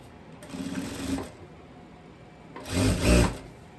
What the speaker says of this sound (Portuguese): Então, agora eu vou passar a costura de reta aqui.